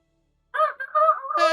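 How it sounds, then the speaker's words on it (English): A rooster's crow from behind a closed door, a single short call with a harsh, strained, wavering tone rising toward its end, heard close and fairly loud after a moment of silence. "she hears the sound of a rooster going off on the other side of the door"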